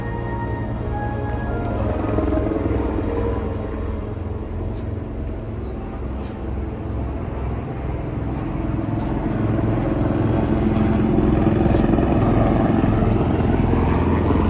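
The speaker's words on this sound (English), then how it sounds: "the helicopters flying right around me" Steady, heavy rotor drone of helicopters over a Marine Corps base, loud and continuous with a low pulsing thump throughout.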